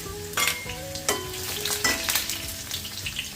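Crushed garlic cloves and crushed cumin sizzle in hot oil over lowered gas while being prepared for a drumstick (shevga) vegetable dish, with crackling bursts as they hit the pan and a steady fry between, close and moderately loud.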